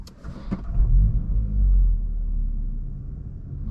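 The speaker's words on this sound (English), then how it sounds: "I thought it'd be a good time to do a little POV drive of my MK8 GTI." A 2022 Volkswagen MK8 GTI being driven on a windy day, heard from inside as a steady low engine and road rumble that swells and eases, with no one talking.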